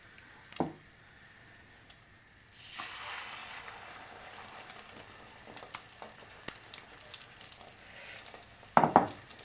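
Meat chops sizzle steadily frying in a pan, with a few clicks and scrapes and a louder clatter near the end; no talking.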